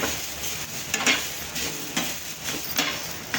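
Grated fresh coconut dry-roasting in a pan, a steady soft sizzle with repeated scraping stirs of a spatula at roughly half-second intervals, close and moderately loud, no voices.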